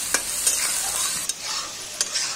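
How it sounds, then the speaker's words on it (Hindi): Onions frying in a pan for a bitter gourd curry, a steady sizzle with a few sharp stirring scrapes at intervals, close and moderately loud, no voices. "प्याज को अच्छी तरह से फ्राई कर लेंगे।"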